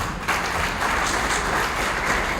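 Audience applause at a members retreat, a steady wash of many hands clapping throughout, fairly loud and even with no voices over it.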